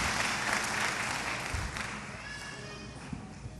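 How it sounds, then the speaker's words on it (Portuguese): A church congregation applauding during a worship service, a dense, steady patter of clapping from many hands that slowly fades, with a voice speaking over it. "Pode aplaudir o Senhor."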